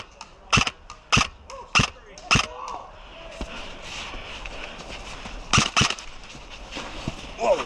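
Airsoft guns firing outdoors in the snow during a game, sharp close snapping shots in quick pairs and singles spaced through the scene, with crunching movement and faint voices in the background.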